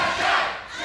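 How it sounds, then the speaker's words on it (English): A large arena crowd at a wrestling match chants USA in unison, a broad, roaring wash of voices that swells and slightly dips over a brief moment. "Scott, as you hear the USA echo throughout the arena,"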